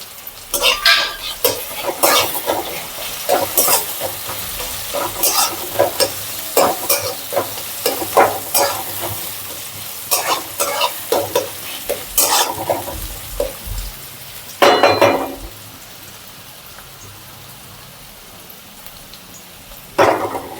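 Onion, garlic and tomato frying in a pan for dhesa bhaji, with a busy run of spatula scrapes and clinks over a soft sizzle, close up, easing into quieter sizzling near the end.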